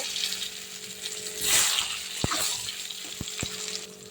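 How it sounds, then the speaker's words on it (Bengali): Potatoes go into oil left over from frying eggs, giving a soft broadband sizzle with a short swell of louder hissing, then a few sharp clicks or taps. No one talks. "আমি এবার এই ডিম ভাজা তেলেই আলু ভাজবো।"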